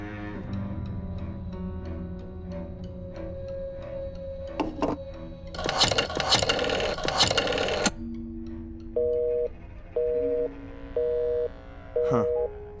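Telephone keypad tones sound in the Black Mirror II video game: a run of short, evenly spaced beeps in rising and falling pitch arrives after a burst of noise, with faint background sound underneath.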